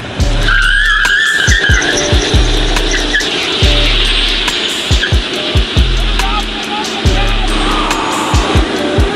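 A car's tires skid and squeal in repeated loud bursts, each broken by low thumping engine pulses, the shrieking returning again and again at close range.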